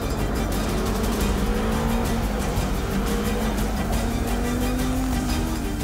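Audi R8 race cars at the Spa 24 Hours roar past at full throttle, a dense, loud engine wail with rising and falling pitch sweeps and a steady wash of track noise throughout.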